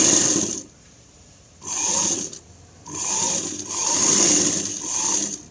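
A sewing machine stitches a lined blouse in short bursts, its quick needle whirr starting and stopping several times with quiet gaps between runs, close and clear with nobody speaking.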